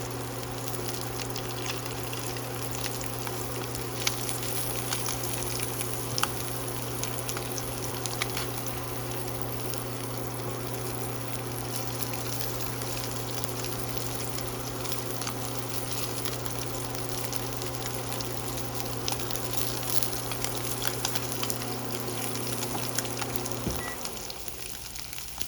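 Food frying in hot oil while ramen toppings are prepared, a soft steady sizzle with light crackles over a constant low hum, running for a long stretch without talk.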